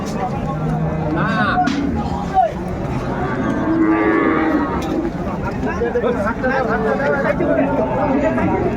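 Cows and calves moo repeatedly at a busy cattle market in Ambari, Bangladesh, where Sahiwal-breed cows are sold with their calves; the lowing rises over constant crowd chatter and nearby bargaining voices.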